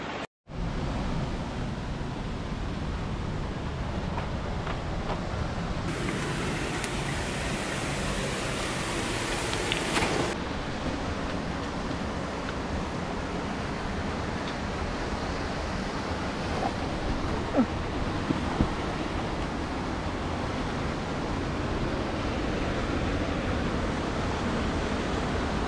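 A river rushing at the bottom of a gorge near Podgorica, Montenegro, a loud, steady, broadband roar of flowing water that continues unbroken throughout, with no voices.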